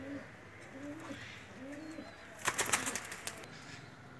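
Female Teddy pigeon giving soft, repeated low coos at a steady rhythm, close by, followed by a short burst of wing flapping or rustling partway through.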